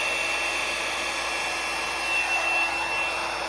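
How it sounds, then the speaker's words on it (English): A blow dryer on its normal setting pushes wet paint across a surface, giving a steady, loud broadband whoosh that runs unbroken throughout with no voices. "I'm mixing the paint and pushing the paint with my blow dryer. My blow dryer is just on normal setting."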